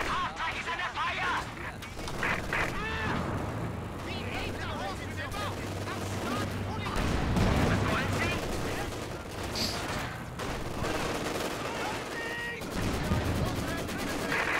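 A half-track comes under gunfire in a World War II-style video game: bursts of rifle and machine-gun fire with heavy booms, loud and chaotic, with an engine droning underneath and voices calling out.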